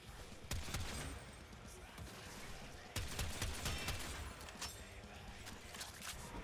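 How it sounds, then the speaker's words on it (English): Gunfire from shooting in Warframe keeps going for the whole stretch, with sharp bursts standing out at the start and again around the middle over a dense game din. No one speaks. "I'm just shooting shit randomly"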